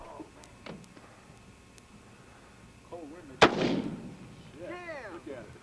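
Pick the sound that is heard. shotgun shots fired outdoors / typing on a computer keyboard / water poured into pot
shotgun shots fired outdoors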